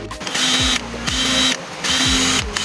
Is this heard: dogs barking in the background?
no